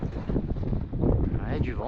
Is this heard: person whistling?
no